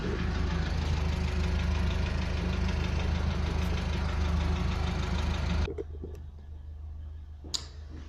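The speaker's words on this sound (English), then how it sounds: "Some people don't know how to turn off a tractor" A loud, steady diesel tractor engine rumbles up close, then cuts off abruptly, leaving quieter background with a faint clink afterward.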